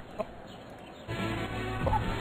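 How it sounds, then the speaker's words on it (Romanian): Chicken clucking in the video game Crazy Hangover, a few short clucks heard alone over a steady low background hum. "O găină!"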